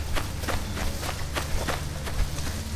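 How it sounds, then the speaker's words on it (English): Heavy footsteps of an unseen creature on a trail camera recording, a steady series of thudding steps at a brisk walking or running pace, fairly close over a constant outdoor rumble. "We don't see the creature, but we hear its footsteps."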